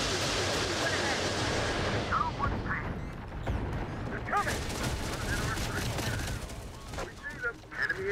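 Dense, continuous battlefield gunfire from Terminator Dark Fate Defiance, a loud rolling fusillade with sharp bursts toward the end, while voices shout over it.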